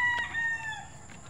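Backyard chickens kept at home, with a rooster crowing in a drawn-out call over softer clucking, fairly close and steady for a moment with no talk.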